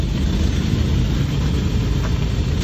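A Land Rover Defender engine running loud and steady while the vehicle reverses, a dense continuous rumble with no distinct revving.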